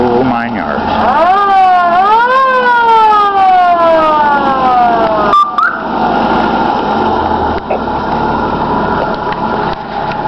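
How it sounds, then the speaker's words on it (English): A fire truck siren wails loudly and close by, its pitch sweeping up and falling in repeated cycles before cutting off. Engine rumble and steady noise continue afterward. "Sirens, lights,"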